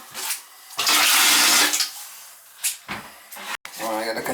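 Toilet flushing and water draining out during a repair, with a loud rushing surge and then gurgling drainage, interrupted by clunks of the tank parts. Someone talks at points.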